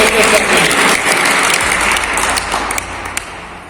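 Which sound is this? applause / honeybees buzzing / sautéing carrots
applause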